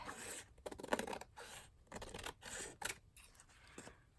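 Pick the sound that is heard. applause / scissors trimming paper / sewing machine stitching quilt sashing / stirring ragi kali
scissors trimming paper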